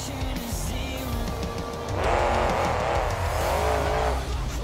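Monster truck in BeamNG.drive at a fairgrounds freestyle competition, engine roaring steadily while tires squeal and skid in two longer bursts, loud and close with no talking.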